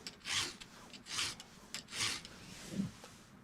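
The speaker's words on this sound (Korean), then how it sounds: "이렇게 한 칸 한 칸 옮겨가면서 갈고 또 한 칸 옮기고 갈고." Four slow, even rasping strokes of a round file sharpening a chainsaw chain tooth by tooth, close and fairly quiet, with short pauses between strokes.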